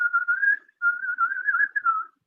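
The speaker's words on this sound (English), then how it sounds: "But can you whistle a tune?" A person whistles a tune as a clear, sustained melody with one short pause, close and alone.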